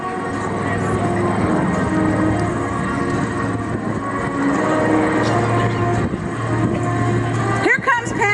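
Steady droning piston engines of a B-25 Mitchell bomber flying at an airshow, a continuous loud rumble with a voice talking over it.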